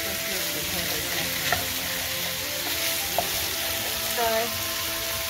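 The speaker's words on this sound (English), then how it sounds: "Here I stir fry and cook the pork and I put the sausage in here and the green pea." Pork, sausage and green peas stir-fry in a pan for fried rice, a close, continuous sizzle broken by a few light clinks and scrapes of stirring.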